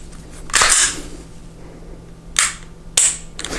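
Sharp, crisp mechanical clicks from a Canik TP9 SF Elite pistol trigger being pulled and reset, three distinct snaps close to the microphone over a quiet room background.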